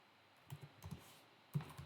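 A few soft keystrokes on a computer keyboard, typed at a command prompt in short uneven bursts, quiet and close with no talking.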